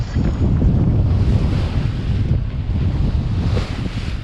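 Strong northwest wind gusting to about 22 knots roars steadily across the microphone on a sailboat in Cardigan Bay, Wales, buffeting it in heavy gusts, with a broad rushing noise and no voices.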